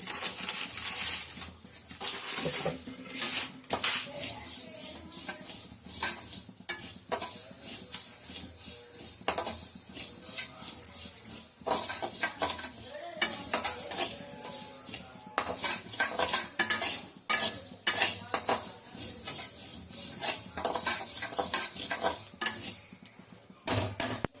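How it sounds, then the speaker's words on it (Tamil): Mustard seeds splutter in hot oil while a kuzhambu is cooked, a long stretch of continuous crackling and sizzle mixed with frequent clinks of a metal spoon against the pan. "கடுகு கொஞ்சம் பரப்பரான்னு பொரியணும்"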